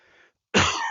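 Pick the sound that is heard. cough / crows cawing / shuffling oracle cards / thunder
cough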